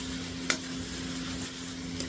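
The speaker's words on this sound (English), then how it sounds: "I have it on a low flame while I'm sauteing it" Shrimp sautéing in a pan over a low flame gives a steady soft sizzle, with two sharp clinks of a utensil against the pan and no talk.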